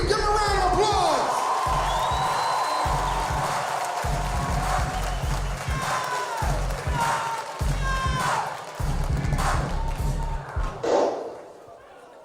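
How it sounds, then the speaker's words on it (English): A comedy show crowd whoops, cheers and claps for a comedian from Brooklyn, loud and close, with thumping bursts and a voice speaking over the noise. "Give him a round of applause."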